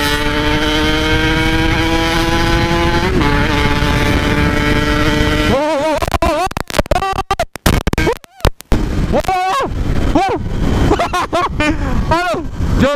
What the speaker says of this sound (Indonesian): Sekarang gue pakai motor tua.